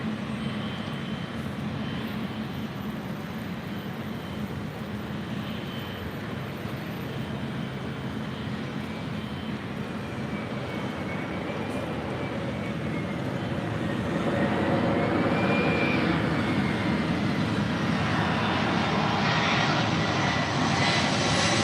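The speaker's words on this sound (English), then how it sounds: "we do have that China Eastern Airlines and that special livery 777-300ER heading back to Shanghai" A China Eastern Airlines Boeing 777-300ER in special livery departs LAX for Shanghai, its jet engines a sustained roar that swells louder and closer partway through, with no voices.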